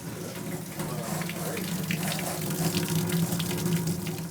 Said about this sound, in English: Now the laundry sink's spitting and exploding.